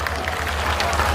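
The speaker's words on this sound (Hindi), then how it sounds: "एक बार जोरदार तालियां के लिए भी बजाओ" An audience at a temple program applauds in a short, dense wash of clapping over a steady low hum from the sound system, with faint voices mixed in.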